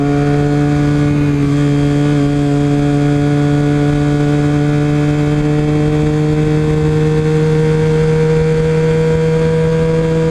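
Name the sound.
Yamaha R6 motorcycle riding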